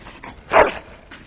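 A dog in the video game Dragon Age: Origins gives a single short, loud bark-like yelp in the middle of an otherwise quiet moment.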